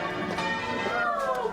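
Church bells peal across an English market town in Shepton Mallet, Britain, marking the end of the First World War on 11 November 1918, a dense continuous ringing heard under a speaking voice.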